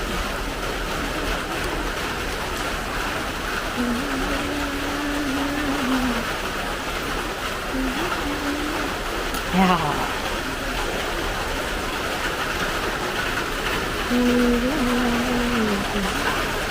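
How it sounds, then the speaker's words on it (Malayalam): Light rain falls in a steady, soft hiss throughout, with a voice talking intermittently over it. "ചെറിയ മഴ വലിയ മഴയൊന്നുമില്ല ചെറിയ മഴ"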